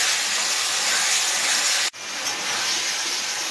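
Chilli chicken frying in a hot pan while being stirred, a loud, constant close sizzle and hiss with a momentary dip as the food is turned.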